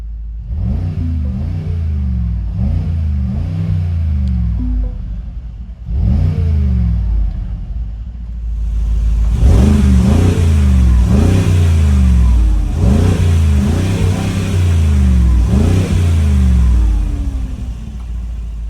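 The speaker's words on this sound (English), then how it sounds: "Let's go ahead and rev this beast up" A 2025 Mercedes-AMG G63 engine revs repeatedly up close, each blip climbing and dropping, then louder throaty revs through a sporty exhaust with crackling rumble.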